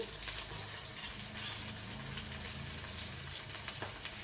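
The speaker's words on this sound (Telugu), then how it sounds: "క్యారెట్ ముక్కలండి నెక్స్ట్ వేస్తున్నాను చూడండి" Carrot pieces frying in a pan, a continuous close sizzle and crackle of oil that stays fairly even throughout with a few sharper pops.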